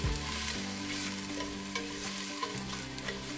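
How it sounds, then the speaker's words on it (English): Onions and garlic sautéing in a soup pot, a steady close sizzle with scraping stirs, no voices. "And I'm gonna give this a little saute."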